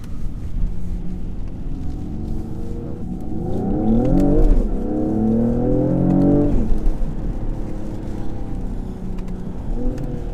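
A 2020 Mercedes GLE53 AMG inline-six engine, partly augmented through the speakers, revs up as the SUV accelerates on a wet road, rising in pitch twice with gear changes over a steady cabin rumble.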